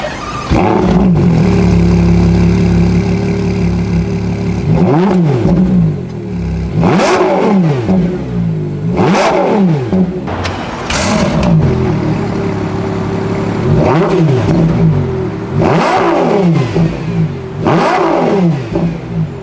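A Ferrari Purosangue SUV engine revs repeatedly, about seven sharp bursts rising and falling over a deep idle, loud and close.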